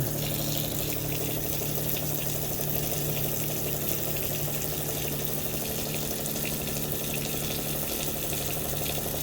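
Water gushing steadily from a tap in an RV after frozen pipes thawed in winter cold, a loud, continuous close rush with a low pump-like hum beneath and no talking.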